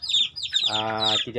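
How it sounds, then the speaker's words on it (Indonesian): Young chicks from a simple breeding pen peep in high, rapid chirps, with a brief clucking adult hen note in the middle and a voice speaking over them. "Jadi ini suara anakan ayam hanya di awal-awal"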